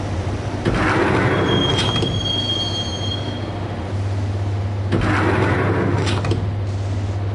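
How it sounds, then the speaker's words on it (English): Train ride in the video game Max Payne: a steady low rumble of rolling rail cars with metallic wheel squeals rising twice, continuous and fairly loud, with no talking. "the train doors had already shut behind me, and I was in for the ride"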